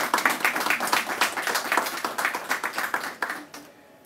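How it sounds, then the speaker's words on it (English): A round of applause at a celebration of legal luminaries honoring Sir Henry Ford; close, crisp clapping with distinct individual hand claps, then a quick fade at the end. "I think that deserves a round of applause."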